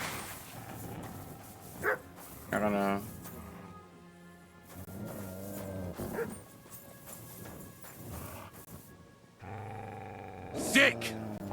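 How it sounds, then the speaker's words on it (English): Several wild dogs in the video game Kingdom Come Deliverance 2 bark and yip in scattered bursts during a fight, mixed with game clatter, while a player talks over much of it. "There's multiple wild dogs."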